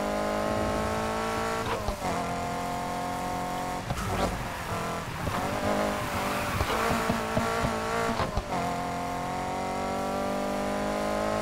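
Racing cars roar at speed at night in the Need for Speed Heat video game, a steady engine drone with sharp tire squeals and skids breaking through, loud and continuous.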